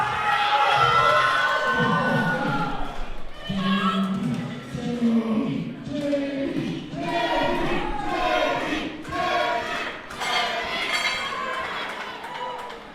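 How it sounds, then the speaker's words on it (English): A crowd at a local USAPL powerlifting meet cheers and shouts for a lifter, loud and sustained with rising whoops and yells over continuous crowd noise. "Listen to that crowd support."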